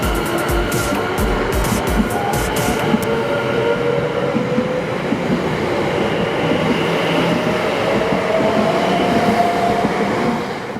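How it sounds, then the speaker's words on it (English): A passenger train on Birmingham's Cross City Line rumbles loudly and steadily from the inside, running from Aston toward Gravelly Hill, with continuous wheel and track noise and a faint rising whine. "it was time to take a train from Aston to the first station in today's video of Gravelly Hill"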